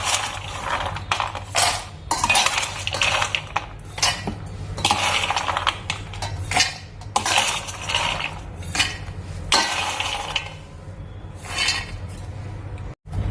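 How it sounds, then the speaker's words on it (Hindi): Roasted dry fruits tipped into a steel mixer grinder jar in a home kitchen, bursts of rattling, clinking pieces striking metal in uneven pours, close and fairly loud. "अब हम इनको एक मिक्सी के जार में डाल लेते हैं।"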